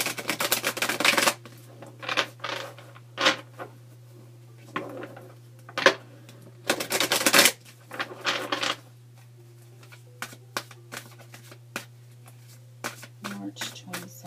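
Tarot cards being shuffled by hand in quick, crisp riffles and snapping bursts, then lighter taps and flicks, close up over a steady low electrical hum.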